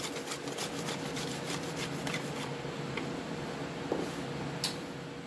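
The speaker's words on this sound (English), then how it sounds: "So I'm just grating some chocolate over the top of this." Chocolate being grated over a plate of nachos, a steady close rubbing rasp that runs the whole time with a few small knocks near the end, no one speaking.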